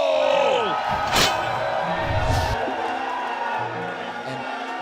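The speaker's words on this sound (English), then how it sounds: "You can hear the crowd chanting, Backstab, Backstab" A large crowd at a 2017 Clash Royale tournament finals cheers and chants loudly throughout, a steady roar of voices with a sharp bang near the start, while an announcer talks over it.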